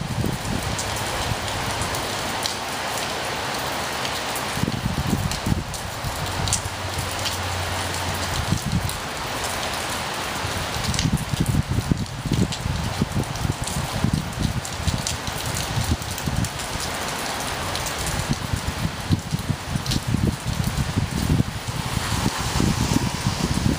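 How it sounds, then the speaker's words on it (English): Strong gusting wind with steady rain during a storm. The rain patters throughout, with rough buffeting bursts of wind over the microphone that swell and ease, loudest in the second half. "The wind is quite strong."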